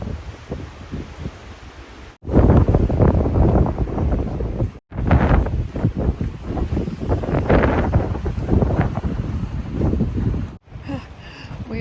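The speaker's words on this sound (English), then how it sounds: "We are hitting major wind today." Strong wind gusts on a mountain trail near Mount Rose buffet the microphone in loud, roaring surges, dropping briefly to near quiet between blasts before rushing back.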